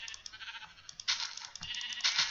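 Sheep in a video game give a quick run of close, thin bleats, overlapping and rising in bursts over a quiet background.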